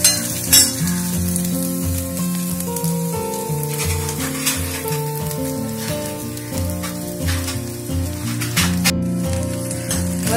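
Orange peel sautéing in oil in a pan gives a continuous close sizzle with stirring, heard over background music.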